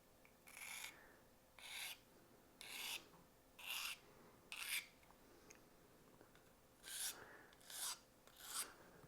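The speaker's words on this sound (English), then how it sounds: "I would recommend to remove the burr very carefully" Steel knife edge being deburred with careful strokes, eight short rasping passes, each about half a second, in a steady rhythm with a brief pause midway; close and quiet, with no talk.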